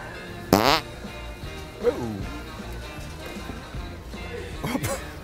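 A loud, brief fart bursts out near the start, followed later by a smaller rasping one, amid casual conversation in a playful setting.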